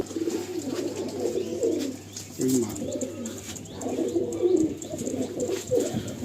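Andhra high flyer pigeons coo close by in soft, throaty repeated bursts, with someone speaking briefly over the birds.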